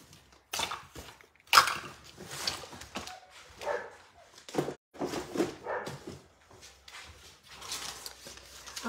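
Dogs barking, yipping and whimpering in play, with repeated bursts of varying loudness close by across the whole stretch.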